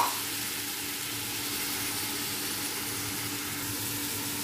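Tomatoes added to a hot pan give a sudden burst then a steady, close, broad sizzle that keeps on evenly without talk.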